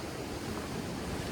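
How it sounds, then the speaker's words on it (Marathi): Surf washes steadily onshore at Kashid Beach as the tide rises, a continuous broadband roar of nearby breaking waves mixed with some wind buffeting, with no voices. "येता येता लाटा अगदी जवळ पोचल्या, भरती सुरू झाली."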